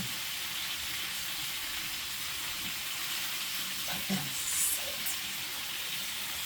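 Water at a full rolling boil in a pot, ready for rice to be added, gives a steady, close, even hiss and bubble throughout, with a few brief clinks and stirs near the end and no voices.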